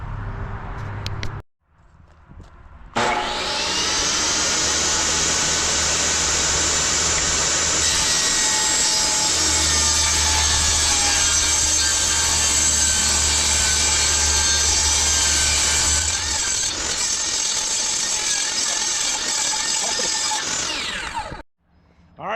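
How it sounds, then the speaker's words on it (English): A power saw rips a length of LP SmartSide trim board, heard as a loud, steady whining cut that runs for about twenty seconds, framed by brief motor hum before and after. "put this finished edge against the saw and cut this piece out too"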